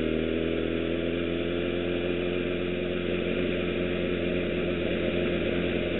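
Motorcycle engine holding a steady, even drone at about 16 mph while the rider leans the bike through a left turn and rolls on the throttle. It sounds continuous and close, with no pauses or voices.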